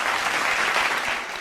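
An audience claps loudly and steadily for contestant Vaishnavi at a singing competition finale, a dense burst of applause that fades slightly toward the end.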